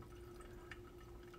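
A thin stream of hot water trickles slowly from a kettle into a V60 coffee filter, a faint, steady, soft pour with no voices.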